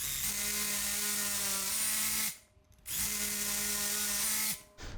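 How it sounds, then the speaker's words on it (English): A pneumatic hammer drill bores into concrete in a small garage, making two loud grinding bursts of about two seconds each, close by, with a short pause between them. "I got this, the pneumatic hammer, to drill into the concrete"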